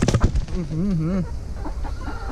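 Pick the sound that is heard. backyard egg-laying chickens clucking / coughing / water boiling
backyard egg-laying chickens clucking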